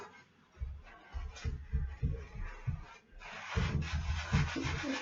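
Hands rubbing through wet hair while washing and finger-detangling, a close, continuous soft scrubbing and rustling in uneven strokes that grows fuller and louder toward the end.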